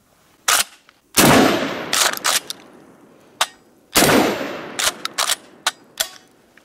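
A Kel-Tec KSG 12 gauge shotgun fires at targets outdoors. Two loud, booming blasts ring out and echo, each followed by sharp mechanical clacks and clanks from cycling the action, with no talking.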